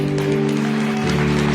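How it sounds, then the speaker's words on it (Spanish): A church congregation claps in praise during a worship service, a steady dense wash of applause with a sustained tone running underneath the whole brief moment. "Da un aplauso al Señor."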